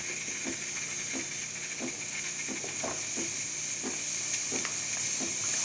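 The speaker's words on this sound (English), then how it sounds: "you can see the steam coming out through this machine" Steady broadband hiss of a DeLonghi espresso machine steam wand running continuously, with faint intermittent clicks and ticks underneath.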